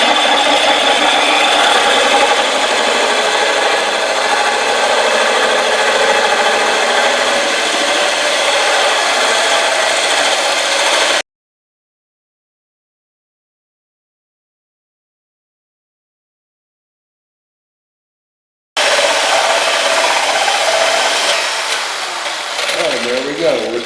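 A diamond drill grinds steadily through tile with a harsh, gritty whir, stops abruptly into silence, then resumes briefly before winding down.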